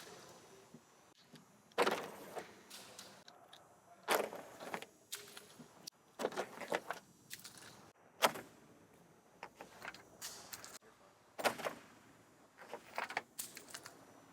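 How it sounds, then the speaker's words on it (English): Metal keys are slid repeatedly across a Dip Armor rubber-coated car surface, producing a series of scraping, jangling bursts in bouts separated by short pauses, close and fairly quiet with no talking. "slide these keys across the surface a bunch of times"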